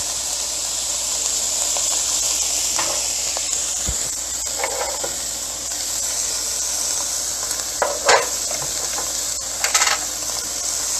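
Garlic frying in a pan for a smoky chicken dish, a steady bright sizzle and hiss throughout with a few brief clinks and stirs, fairly close and no talk.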